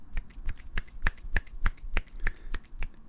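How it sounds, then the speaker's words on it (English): A man snaps his fingers as a one-hand clap, about a dozen crisp, close snaps in a steady rhythm, roughly three per second, with no talking over them. "here's a one-hand clap from myself."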